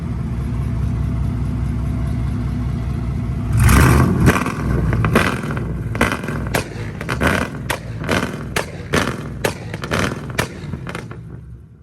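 A car engine fitted with Texas Speed headers idles, then fires off a rapid series of loud, sharp 2-step pops and bangs in repeated bursts, each separated by a short lull.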